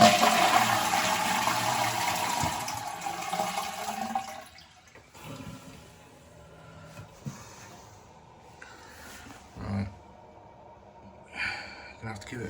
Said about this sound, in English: Gonna have to give it a fair few flushes before we can even find out